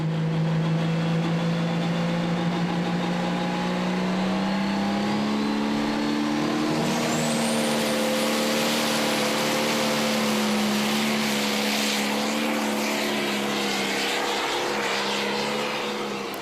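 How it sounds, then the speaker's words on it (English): A pro stock pulling tractor launches down a dirt track at a 2014 event in Chandler, Arizona, its loud engine roar rising while wheel speed builds into a sharp climbing whizz. Crowd noise sits beneath it. "you can just hear how much ground speed they're picking up right out of the hole, that wheel speed that they've gotten, that whizzing"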